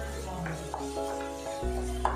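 Chicken curry masala of tomatoes, onions and chilli powder being stirred in a pan, with a steady low sizzle and a few soft scraping strokes of the spoon, close by and alone.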